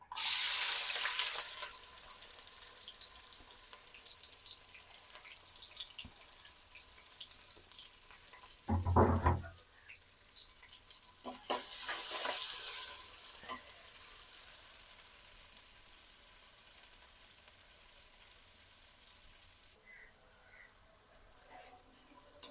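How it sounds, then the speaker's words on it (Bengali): Chopped onions drop into hot oil for a beef curry, giving a loud sizzling burst at first, then another sharp spurt and a longer crackling hiss a few seconds later, with quieter kitchen clatter between. "তেলটা আমার গরম হয়ে গেছে। এখন আমি পেঁয়াজ কুচিগুলো দিয়ে দেব।"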